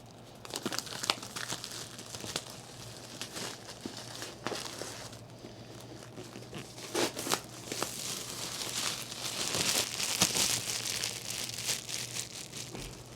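Plastic protective film peeled off a 16-inch MacBook Pro box, a sustained crinkling and tearing with sharper crackles that swell and fade, close up and with no voices.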